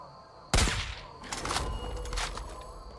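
A headshot rifle shot rings out in Far Cry 5, one sharp, loud crack followed by a rolling echo and a few softer thuds and rattles fading through the open outdoor setting.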